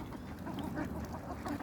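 Ducks at a pond during feeding, with soft scattered quacking and rustling close by over a low outdoor background, no one talking.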